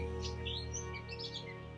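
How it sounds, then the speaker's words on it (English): Birds chirp and tweet in short bursts at a distance along the Flag Pole Knob Jeep trail, soft and scattered over a steady low background hum. "The birds that you hear chirping in the background"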